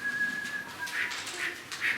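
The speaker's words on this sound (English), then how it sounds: "I can only whistle sucking in." A person whistling by sucking air inward produces several short, breathy tonal notes with a thin steady pitch at first, fairly close and alone.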